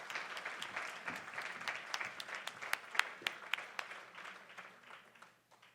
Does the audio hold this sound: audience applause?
yes